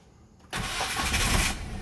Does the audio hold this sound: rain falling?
no